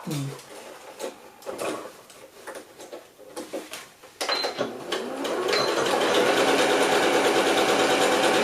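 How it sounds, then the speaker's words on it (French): A sewing machine runs a straight-stitch seam through scrap fabric, starting after a few seconds of handling clicks and then whirring loudly and continuously to the end. "on va aller coudre cette couture là"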